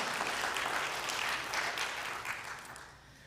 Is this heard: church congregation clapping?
yes